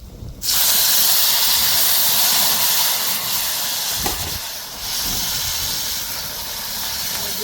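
Tomatoes dropped into hot oil with cumin set off a sudden loud, steady sizzle that hisses on without a break, close and alone.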